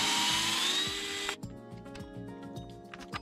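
A power driver whines steadily while backing out four 2.5 mm screws from the bottom of an Arrma Boost 4X4 RC car, then stops abruptly, leaving short clicks and light handling taps close to the mic.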